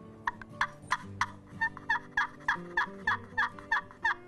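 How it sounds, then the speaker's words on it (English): A wooden turkey box call, two surfaces rubbed together, scratches out a run of about a dozen short, raspy yelps in a steady rhythm, close and clear with no voices. "This is another type of box call."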